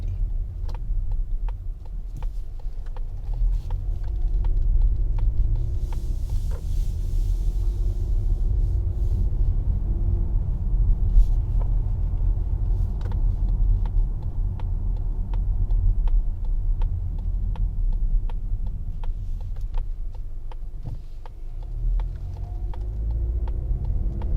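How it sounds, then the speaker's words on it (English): Steady cabin rumble inside a 2023 Mazda CX-50 GT Turbo 2.5L on the move, low road and engine drone holding even throughout with faint ticks and no talk. "I want to give you the chance to also hear how it is to drive this Mazda CX-50"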